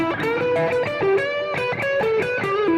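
Stratocaster lead guitar through a Mark III driver pedal with a germanium diode setting and boosted treble, playing a quick, bright, overdriven melodic line of short legato notes, close and steady, with no voices.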